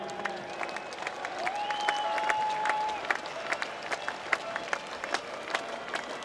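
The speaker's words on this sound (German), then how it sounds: "Wo sind die Fans? Ich höre euch nicht klatschen." Scattered clapping and crowd noise from football fans in the stands at a Landesliga match between Neumühler SV and F.C. Hansa Rostock, fairly distant and moderate in level, with sharp individual claps and occasional voices or whistles mixed in.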